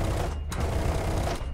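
A rapid, continuous roar of aircraft cannon fire from a MiG-23MF in War Thunder simulator battle, loud and unbroken for over a second with a dense rattling texture.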